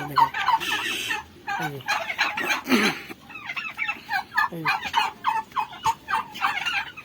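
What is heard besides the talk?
chickens calling at a poultry farm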